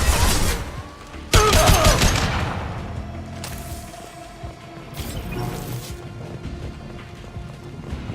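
Gunfire in Mass Effect 2 cracks out in a few sharp, loud bursts with echoing tails, separated by quieter stretches of ambient combat noise; no talk.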